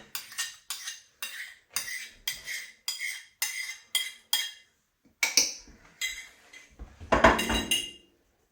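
A spoon stirring beans in a slow cooker, about a dozen rhythmic clinking scrapes against the ceramic pot, close and distinct with short pauses, ending in a busier clatter.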